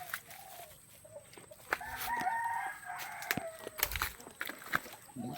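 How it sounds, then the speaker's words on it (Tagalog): Pet chickens at a rural home, a rooster crowing in a drawn-out call with hens clucking around it, faint and somewhat distant, with scattered knocks and background noise. "Mga alaga kong manok."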